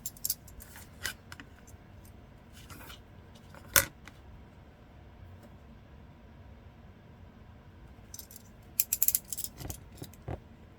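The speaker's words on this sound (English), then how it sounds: "I'm going to cut this." Scissors cutting through card, heard as a handful of sharp snips scattered across a quiet room, one louder close snip in the middle and a quick cluster of cuts near the end.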